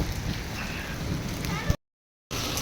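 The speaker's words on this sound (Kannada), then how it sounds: "ಇಲ್ಲಿ ನೋಡ್ರಿಪ್ಪ ಮಳಿ ಎಷ್ಟು ಜೋರು ಬರಾಕತ್ತೈತಿ" Heavy rain falls in a steady, loud, broadband rush, cut off abruptly by a brief gap of silence before it resumes just as strong.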